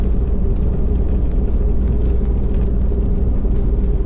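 An old Jeep Wagoneer, left sitting for years and pulling to the right, drives on aged tires. A loud, constant engine and road rumble carries a regular rhythmic thumping from the worn rubber.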